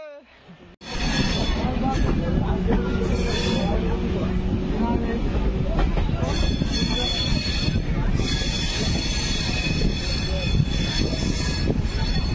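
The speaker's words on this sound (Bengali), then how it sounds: "খড়গপুর থেকে ট্রেন ছেড়ে দিল।" The Shalimar-Puri Dhauli Express train departs Kharagpur station, its wheels rumbling and squealing loudly and continuously on the rails after a brief quiet opening, heard from onboard.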